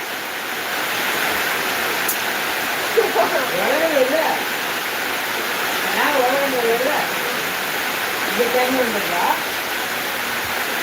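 Heavy rain pours down in a steady loud broadband hiss throughout, while voices talk intermittently over it.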